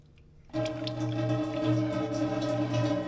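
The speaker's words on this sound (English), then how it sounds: "We're gonna take this drain plug out and let the fluid drain." Rear differential fluid from an Acura MDX pours in a steady stream into a drain pan after the plug is pulled, a continuous close liquid splatter and trickle that starts abruptly and runs unbroken.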